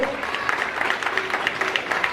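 Applause rings out at a school Christmas and Sankranti celebration, a brief burst of rapid, dense clapping from a crowd with a voice faintly underneath.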